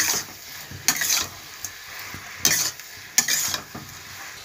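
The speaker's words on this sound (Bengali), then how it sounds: "এবার এটার সঙ্গে ডিমগুলো মিশিয়ে নেব।" Eggs are stirred into a sizzling chili sauce in a pan, with a spatula scraping and tapping against the metal in uneven strokes over a soft frying hiss and no talking.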